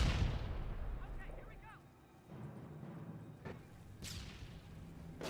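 Artillery fire and explosions in the WWII strategy game Company of Heroes 1, heard as a heavy booming blast at the start followed by scattered distant pops and bursts, with commentary speech running over it.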